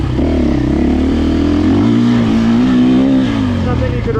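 GasGas enduro motorcycle engine droning steadily while riding, loud and close with a sustained hum that shifts slightly in pitch, under someone talking.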